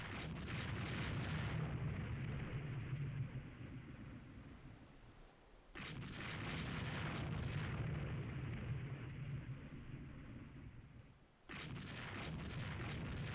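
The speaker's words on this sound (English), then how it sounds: "we're shooting 16-inch guns" Heavy 16-inch naval guns fire in a Rule the Waves 3 sea battle, three long rumbling booms rolling out one after another, each cutting off abruptly, with a faint, distant tone.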